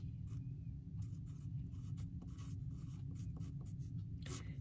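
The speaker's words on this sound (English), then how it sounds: "I write that on top" Pen or pencil writing on paper while working out a topographic profile calculation, a close run of light scratchy strokes with short pauses between them, no talking.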